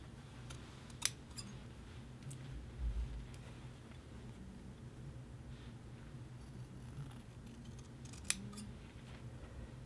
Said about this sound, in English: And so we'll trim across there.